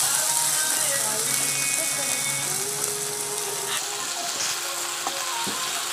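Potatoes frying in a pan for methi aloo sabzi, a constant broad sizzle held at an even level throughout, with a few faint stirring taps.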